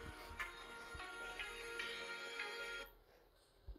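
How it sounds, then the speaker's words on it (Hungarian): A second mobile phone rings nearby, a repeating electronic ringtone pattern that cuts off abruptly near the end, faint and with no talk over it. "csörög útközben a másik telefon"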